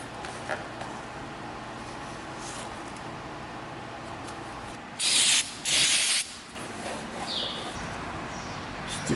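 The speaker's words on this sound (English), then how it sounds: "I'll spray it with some carb cleaner or brake parts cleaner or whatever you got." Two short bursts of aerosol carb cleaner sprayed onto a part while a KLX140 dirt bike's forks are replaced, each spray a loud hiss of about a second over quiet workshop background.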